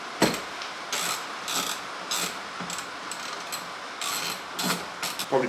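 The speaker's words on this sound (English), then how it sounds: "we're just going to take those last three bolts out" A ratchet clicks in quick repeated bursts while unbolting the crash-damaged wing of an Audi Quattro A3, the pawl chatter fairly close and sharp, with brief pauses between strokes and no talking.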